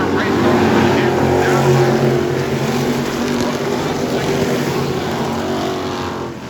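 Race cars circle a dirt track in a feature race, their engines roaring loud and close in a continuous blare, with a commentator's voice running beneath the engine noise.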